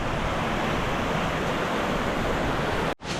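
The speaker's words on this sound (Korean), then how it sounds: "옆에는 조금 살벌한 색깔의 강이 흐르고 있습니다" A river rushes below a waterfall in Indonesia, a loud unbroken roar of churning water that cuts out abruptly near the end.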